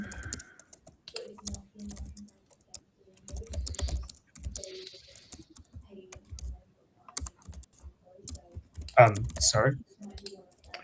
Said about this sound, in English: I could hear lots of typing there, lads.